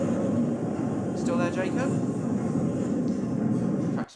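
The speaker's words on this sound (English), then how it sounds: "Traction motor sounds on these trains." London Underground train traction motors accelerating with a steady, loud hum and rumble that carries throughout, while a voice speaks briefly in the middle.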